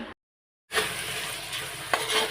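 Matar ghugni, a dried pea curry, sizzles loudly in a pan while being stirred. A short break in the sound is followed by steady, close frying.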